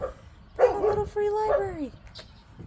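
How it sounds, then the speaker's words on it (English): A dog barks and yips in a garden at a nature center, a few short, fairly close calls mixed in with a person talking. "That's my dog."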